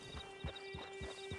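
Horse hooves clip-clop in a steady walking rhythm, four distinct thuds in a row, with a faint steady tone beneath, from the opening scene of the Red Dead Online video game.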